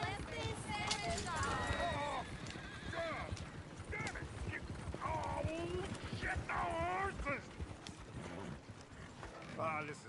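Horse hooves clip-clop in Red Dead Redemption 2, a steady stream of soft clopping under voices and background bustle.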